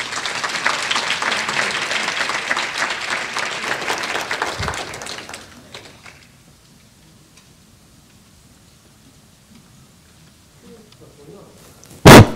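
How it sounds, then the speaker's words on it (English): A seated audience gives a large round of applause to a doctor being introduced at a talk on Ebola preparedness, dense clapping for about five seconds before fading into near silence, with a brief sharp knock at the very end. "So big round of applause for Dr."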